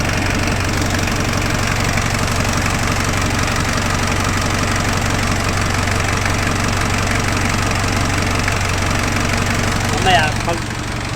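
A car engine idles steadily with a low, even rumble throughout, and a brief clunk comes near the end.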